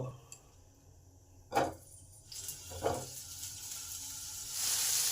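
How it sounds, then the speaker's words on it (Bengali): Potatoes fry in hot oil in a pan, with a soft hiss that swells into a louder, steady sizzle, broken by a couple of brief bursts of clatter. "তেল গরম হলে আলুগুলোকে ভেজে নেব।"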